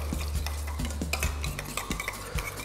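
A spoon or utensil stirs a thick pomegranate mixture with lemon juice and black pepper in a bowl, giving rhythmic clinking and scraping strokes close up, with no talking.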